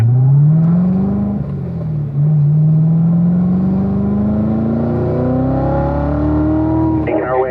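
Race car engine at Spring Mountain track rising steadily in pitch as it accelerates, loud and close throughout, with a brief dip and gear change partway and engine roar under occasional talk.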